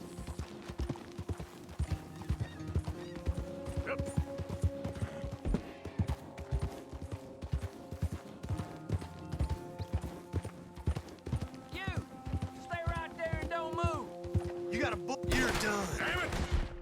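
Horse hooves clip-clop steadily in Red Dead Redemption 2, joined by a tired-sounding neigh near the end. Faint gunfire and mechanical game sounds play in the background, and someone talks over it.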